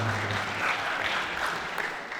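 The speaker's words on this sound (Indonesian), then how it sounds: "Kita berikan tepuk tangan untuk pertanyaan Stefani." An audience at an entrepreneurship talk claps for a question from the floor, a continuous, even patter of many hands that holds steady at moderate loudness and eases off slightly at the end.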